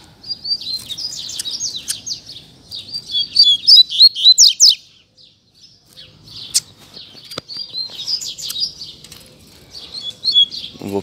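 Double-collared seedeaters (coleiro) singing in a song dispute between a caged bird and a free one, with bright, rapid chirping phrases in bursts, loud and close, separated by short pauses.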